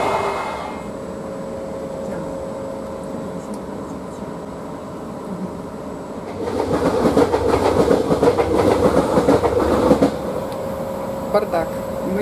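A passenger train in Italy rolls along the rails with a continuous rumble and hum, and a louder rattling clatter of wheels over track swells midway before easing back; no clear talk is heard.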